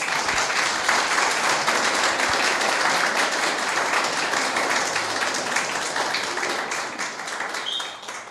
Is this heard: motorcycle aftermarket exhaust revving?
no